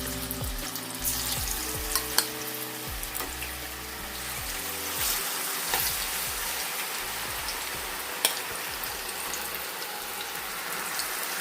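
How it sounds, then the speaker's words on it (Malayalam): Pieces of chicken dropped one at a time into hot oil for crispy fried chicken, loud close bubbling sizzle with sharp crackles and pops throughout, no talking. "തിളച്ച എണ്ണയിലേക്ക് ഓരോ പീസ് ചിക്കൻ എടുത്ത് ഇട്ട് കൊടുക്കണം"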